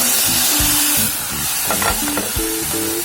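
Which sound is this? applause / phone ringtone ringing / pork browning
pork browning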